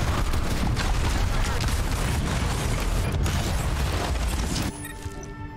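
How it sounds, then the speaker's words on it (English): D.Va's auto shotguns in Overwatch 2 fire as a dense, loud, continuous rattling barrage of blasts that cuts off near the end, leaving quieter game ambience. "I'm playing D.Va, who has auto shotguns, and the audio is super loud again. So it's shotguns."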